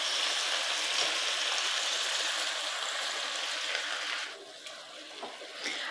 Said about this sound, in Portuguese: E por último, vamos acrescentar um pouquinho de água.